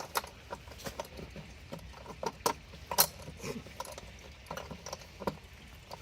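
A band clamp nut on a pool cartridge filter is loosened by hand, giving a series of irregular metallic clicks, ratcheting taps and small clanks, close and fairly faint.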